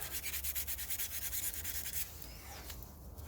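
Sandpaper scrubbed by hand over a car wheel hub on a BMW X3 F25 during front control arm ball joint work, quick rhythmic rasping strokes close up for about two seconds, then a softer rubbing hiss.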